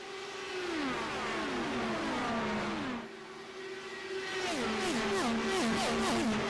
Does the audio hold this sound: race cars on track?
yes